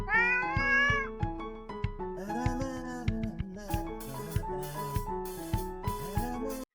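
A cat meows repeatedly in long, drawn-out, talk-like calls with rising and falling pitch, close and clear over a steady rhythmic musical background.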